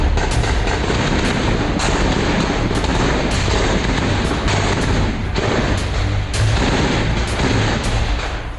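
Repeated heavy booms and blasts thunder at irregular intervals over a dense, continuous rumble of gunfire, loud and close, as security forces blow up a militant hideout during an encounter in Handwara, Kashmir.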